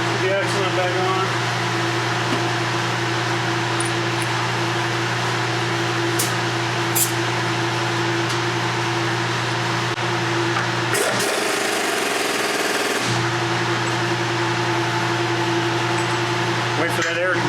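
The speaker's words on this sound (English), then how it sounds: "Wait for that air compressor to stop." An air compressor runs as a steady droning hum in a shop during wheel bearing work on a 2007 Chevy Silverado, loud and continuous with a short break in the middle and some clattering.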